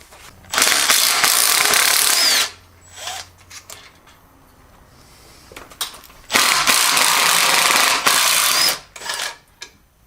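Tail housing bolts come off a Ford C6 automatic transmission from a 1980 F-350 service truck: two long bursts of loud, buzzing ratchet or power-tool rattling separated by quieter clinks and handling noises.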